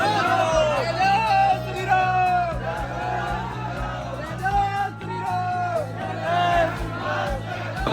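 A dense crowd of pilgrims queuing for a temple at the Mahakumbh in Prayagraj: a loud, continuous roar of babble with scattered shouts and whoops, while someone talks close by throughout.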